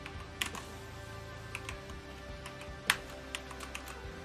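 Typing on a brown computer keyboard at a desk, scattered soft key clicks with one sharper louder keystroke near the middle, close and quiet with no talking.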